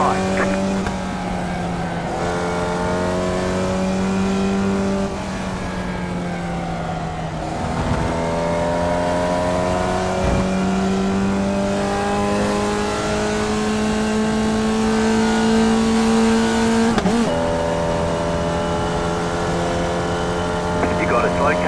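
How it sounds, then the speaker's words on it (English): Car engine droning steadily on a road, a sustained hum with slowly shifting pitch and a few whooshes as traffic passes nearby, loud and continuous under occasional talk. "You got a slow car on the right."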